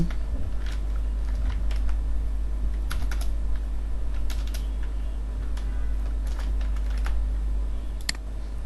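Fingers tap a computer keyboard in quick irregular bursts while first names are entered into a Bootstrap table, crisp clicks standing out against a steady low electrical hum, with no talking.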